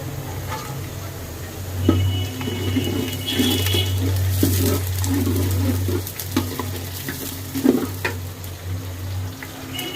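Vegetables being stirred in a hot cooking pan for a restaurant-style mixed vegetable dish, with steady close sizzling and frying under repeated scraping and clinking stir strokes, no talking.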